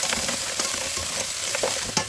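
Mussels cooking in a light, thin-walled pot are stirred with a few scraping strokes over a steady frying sizzle, close by with no talk.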